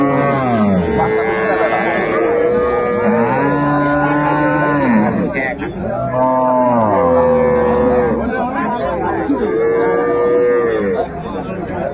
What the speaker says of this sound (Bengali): গাভী বাচ্চা আমরা দেখছিলাম এখানে